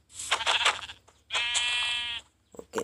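Two bleats from a Minecraft lamb, a short choppy one followed by a longer sustained harmonic bleat, close and clear, with a brief faint sound at the end.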